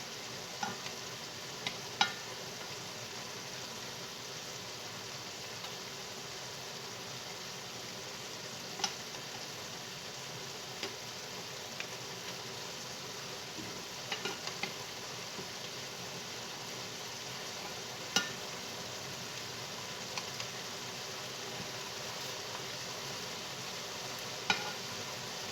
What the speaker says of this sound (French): on va le laisser maintenant cuire jusqu'à ce que l'alcool du vin soit évaporé